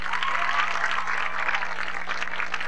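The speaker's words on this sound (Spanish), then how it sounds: "Aplauso para los muchachos de Guanabacoa." An audience applauds the Guanabacoa performers on a television show, a steady wash of clapping at moderate level with a low constant hum beneath it.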